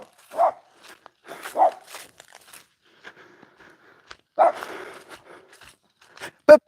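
A puppy barks nearby in short separate yips, two early and another after a pause, mixed with rustling, handling noises and faint footsteps.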